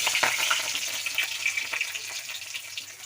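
Dried red chillies frying in hot oil in a pan for an Assamese raw banana dish, a steady close sizzle with faint crackles, no voices.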